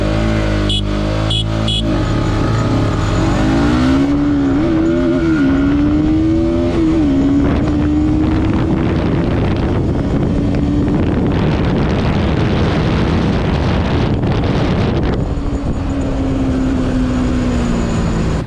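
Yamaha R15 V3 BS6 and Bajaj NS200 BS6 motorcycles launching in a drag race, engines roaring loud and close as revs climb through rising gear pulls, with heavy wind buffeting across the whole run.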